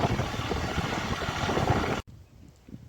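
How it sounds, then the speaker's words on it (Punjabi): A tractor engine runs steadily during straw (bhusa) loading on a farm, a dense, loud mechanical roar for about two seconds that cuts off abruptly and leaves a much quieter low rumble. "ਠੀਕ ਚੱਲ ਰਿਹਾ ਟਰੈਕਟਰ"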